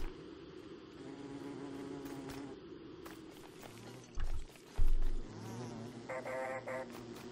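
Bees swarm out of a harvested bee box in the video game Don't Starve Hamlet, a soft, wavering insect buzz running under quiet game sounds with a couple of brief low thumps.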